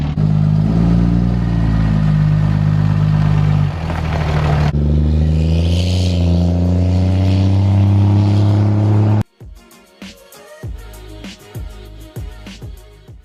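A customer's Cummins diesel pickup, fitted with a Sinister Diesel intake elbow, idles and revs loudly up close for several seconds, then pulls away and cuts off abruptly, leaving sparse clatter and knocks.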